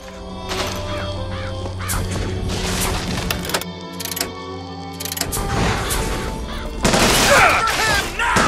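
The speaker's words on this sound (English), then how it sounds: "Press to summon murderous crows" A flock of murderous crows summoned in the video game Bioshock Infinite caws and flutters in bursts over mechanical whirring and gear-like clanks, growing louder toward the end.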